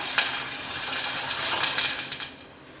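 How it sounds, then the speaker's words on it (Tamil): Ginger, garlic and ground thoothuvalai leaves sauté in a pan, giving a steady close sizzle with small crackles and pops that eases off near the end. "அது கூட தூதுவளை இலைகள் அரைச்சதையும் போட்டு லைட்டாக வதக்கிக்கலாம்"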